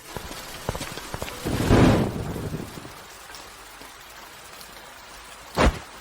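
Rain falls in a steady patter with a few sharp knocks, a denser gust of drops early on and one louder splash near the end.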